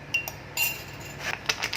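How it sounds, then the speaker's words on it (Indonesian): A metal spoon clinks against a pot or dish as ground coriander is spooned in, a few light scattered taps close by. "Masukkan sebanyak 2 sendok makan bubuk ketumbar."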